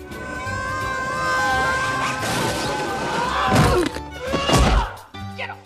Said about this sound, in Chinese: 一个箱子从天而降，